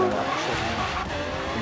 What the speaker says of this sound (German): der Lamborghini liegt nicht so stabil bei dem Tempo